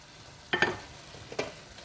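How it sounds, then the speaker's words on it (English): Prawns stirred into vegetables frying in a pan, a low sizzle under two distinct scraping stirs of a utensil, close and moderately loud. "So in your prawns, give it a big stir."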